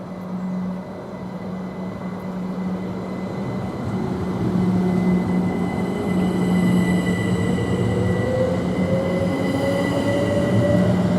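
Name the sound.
Class 387 electric train departing Stevenage station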